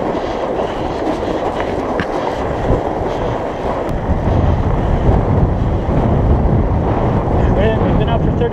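Strong wind roars continuously across the microphone during a night ride on a Surly Moonlander fat bike, a loud, steady rush with gusts swelling in the second half and no clear talk.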